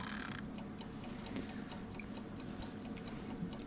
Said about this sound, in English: The kitchen timer? Maybe.